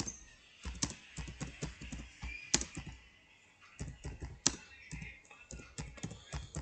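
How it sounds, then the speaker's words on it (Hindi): Typing on a computer keyboard, a quiet run of irregular key clicks and taps, close and alone, with short pauses between clusters of keystrokes. "अगर मैं यहाँ पर हाई लिखता हूँ"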